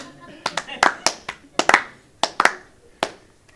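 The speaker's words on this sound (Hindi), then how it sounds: "अब ताली चाहिए." Audience members at a celebrity interaction event clap in a sparse, uneven burst, with sharp, close individual claps from a few pairs of hands rather than a full crowd roar.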